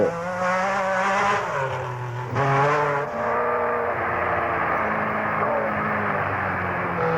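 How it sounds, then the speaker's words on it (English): An MG Metro 6R4 Group B rally car drives at speed, its engine revving high and shifting through gears with a brief tire squeal, close and loud over a rough old VHS recording. "Group B for Pond came in the form of the MG Metro 6R4, ARG's new Group B car"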